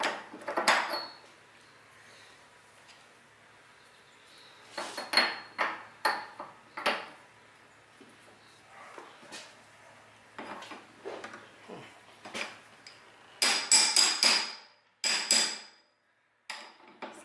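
Metal tools work on the steering bearing nut of a Vespa GTV 300 scooter, giving clustered clinks, taps and scraping knocks in irregular bursts with quiet gaps between, close and fairly faint.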